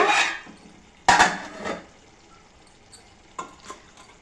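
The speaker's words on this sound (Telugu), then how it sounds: "టమాటాలు ములక్కాడ వేసుకొని బాగా కలపాలండి" A Telugu home cook stirs Andhra-style mutton drumstick curry after adding tomatoes and drumsticks, giving a few short scraping, sizzling bursts of spoon against pot with quiet pauses between them.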